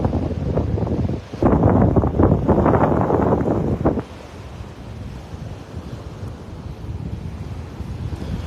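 Wind buffets the microphone on a beach in North Naples, Florida, a loud rumbling gust for a few seconds that then eases into a steady, softer whoosh of wind and surf.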